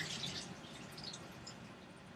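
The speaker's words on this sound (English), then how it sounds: "I'll just dump actually all the marinade down the wash tub" Beef jerky marinade poured down a wash tub, a steady, quiet splashing and trickling of liquid that runs continuously for about two seconds.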